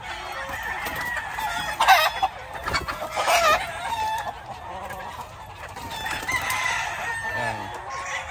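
Chickens cluck repeatedly while a rooster crows loudly nearby, with overlapping bird calls and a faint voice in the background.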